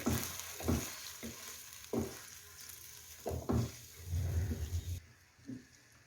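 Chicken white karahi is stirred over a low flame, soft intermittent scraping strokes of a spoon through the thick gravy with a faint sizzle underneath, quiet and close.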